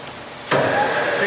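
A Harrison 13x40 lathe spins up at 260 RPM. A sudden burst of mechanical noise gives way to a steady, close motor and spindle whine with a faint tonal hum.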